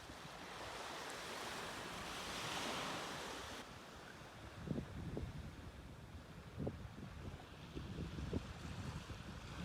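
Ocean surf rolls and washes steadily on a seaside walk, with wind buffeting the microphone and louder crashing waves breaking intermittently in the second half.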